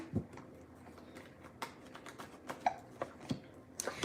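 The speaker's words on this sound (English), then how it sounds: "the hiccups again?" Small, abrupt hiccups from a person, several short separate bursts at irregular intervals over faint background clicks, close and fairly quiet.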